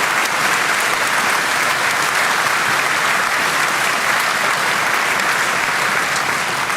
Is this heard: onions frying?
no